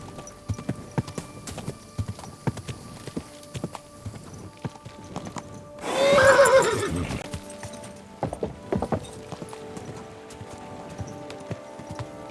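A horse in Kingdom Come: Deliverance II gives one loud neigh in the middle, set between irregular hoof clops that go on before and after it.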